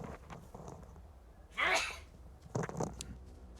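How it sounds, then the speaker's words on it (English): A single sharp human sneeze bursts out near the microphone in the middle, followed by a brief rustle and breath in a quiet room. "I gotta sneeze."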